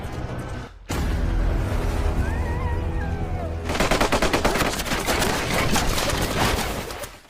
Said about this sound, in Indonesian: Atami pun berlari ke arah sungai dan berusaha menghindari tembakan dari para pasukan Nazi.